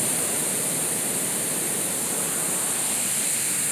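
A waterfall near Lambasingi on the Araku route pours down in a steady, dense rushing roar that stays constant and loud with no voices over it.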